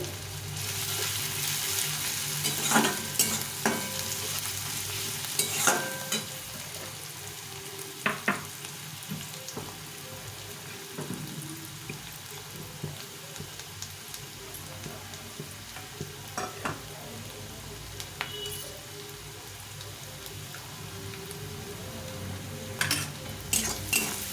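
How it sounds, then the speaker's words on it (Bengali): Onions sizzle steadily in a pan with a bay leaf, a soft continuous frying hiss broken by occasional scrapes and clinks of a stirring utensil. "পেঁয়াজটা ভাজা হয়ে গেছে, খুব একটা লাল করে ভাজবো না।"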